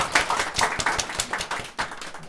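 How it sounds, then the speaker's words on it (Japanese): Audience applause at a Japanese concert before a piano performance, heard as a modest, fairly quiet patter of scattered claps from a small crowd lasting a couple of seconds. "拍手をお願いします。"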